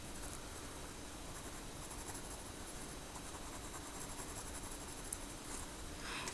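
Pencil strokes drawing a flower on paper, a soft continuous scratchy rasp of graphite sliding and shading close up, steady with slight variations, no voices.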